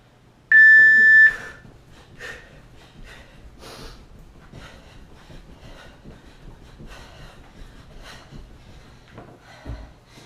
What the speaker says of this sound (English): When you hear the beep, 10 jacks.